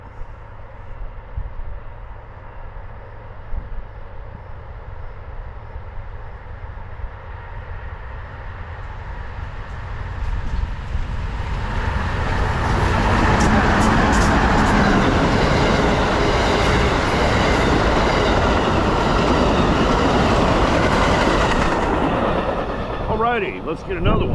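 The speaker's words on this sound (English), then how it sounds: "98 Silver Meteor headed northbound. Got a Siemens ALC-42 leading the way." An Amtrak Silver Meteor train led by a Siemens ALC-42 locomotive passes, starting as a distant rumble that swells into a loud, steady roar of rolling wheels and cars with a faint squeal near the end, while a person talks.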